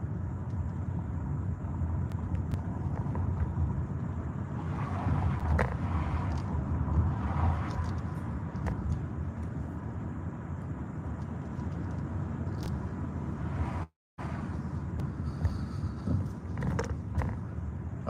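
A car driving along Vancouver city streets, a steady low road rumble and tyre noise that holds close and even for the whole stretch, cutting out completely for a moment near the end before resuming.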